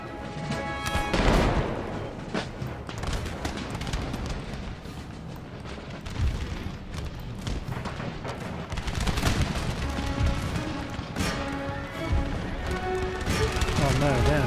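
Musket volleys and artillery fire in an Empire: Total War battle, a dense, continuous barrage of crashes and booms mixed with bursts of gunfire, with speech heard over the din.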